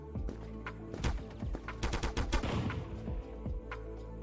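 Rapid bursts of shotgun and other gunfire in the online shooter Krunker, sharp repeated blasts clustering through the middle with a steady low game hum beneath.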